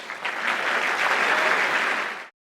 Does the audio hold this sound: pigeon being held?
no